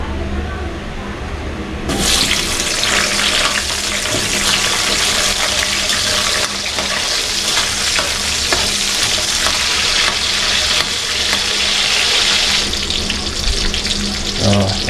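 Eggplant sizzles loudly in a hot pan. The frying starts abruptly and continues as a dense, steady hiss with faint stirring underneath.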